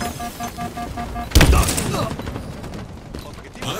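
Gunfire in Halo Infinite multiplayer: one sharp, loud shot bursts in near the middle and rings out afterward, with announcer speech and game sounds in the background.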